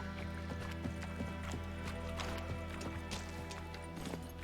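Roach, the horse in The Witcher 3 video game, gallops with a steady, rhythmic clip-clop of hooves, heard fairly quietly over a sustained low ambient drone.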